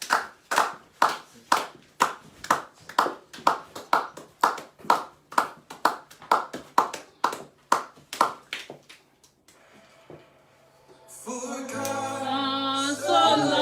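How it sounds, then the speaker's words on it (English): A church congregation at a Sunday service claps in steady, rhythmic unison, about twenty loud, even beats, then the clapping stops and the music swells. "Let's clap our hands for"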